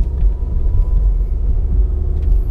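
Used Renault Samsung New SM5 sedan on a test drive, a steady low engine and road rumble heard from inside the cabin, with no talking.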